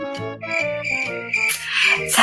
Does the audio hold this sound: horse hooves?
no